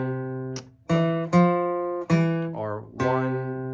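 Guitar picking a dotted quarter note rhythm from tab, five clear, close plucked notes with ringing sustain in an uneven long-short pattern, played alone.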